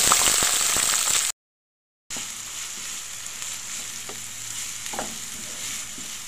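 Cumin, mustard seeds and curry leaves sizzle and crackle in hot oil for a curry, a steady close frying hiss with scattered pops, cut by a brief silent gap before the sizzling resumes.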